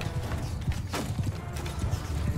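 Horse hooves gallop in Mount & Blade 2: Bannerlord with the Europe 1100 mod as cavalry swoops around in a medieval battle, a busy rhythmic clatter of many hoofbeats under dense battle noise.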